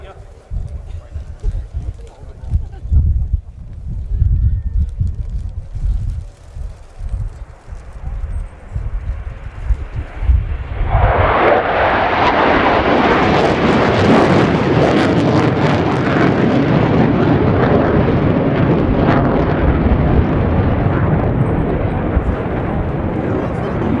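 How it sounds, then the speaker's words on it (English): Three Belgian Air Component F-16AM Fighting Falcon fighter jets at the RIAT air show roar in toward the crowd for the break. A low rumble swells into a loud, sustained broadband jet roar, with a voice heard at the start. "The 3 F-16s then in towards us for the break."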